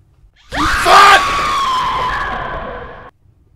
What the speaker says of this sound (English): I wasn't expecting screaming jump scares.